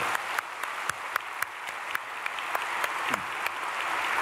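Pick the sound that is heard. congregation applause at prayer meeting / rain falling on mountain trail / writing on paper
congregation applause at prayer meeting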